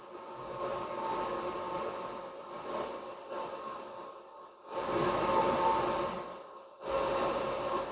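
A drill pecks slowly into metal at about 90 RPM on a workshop machine, giving a low, steady motor hum with a high whine that swells in louder bursts as the bit cuts.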